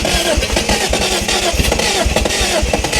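A 1971 Datsun 240Z engine under restoration runs loudly and steadily close by, its dense rumble and revving continuous throughout with no one speaking.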